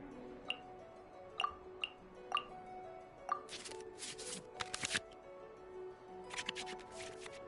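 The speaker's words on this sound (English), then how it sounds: "we can select any number of cards in our hand to shuffle back into the draw pile, and then draw the same number of new cards" Digital cards in the Genshin Impact card game are shuffled back into the draw pile, heard as a few light, crisp ticks followed by quick papery flutters and whooshes over a soft music bed.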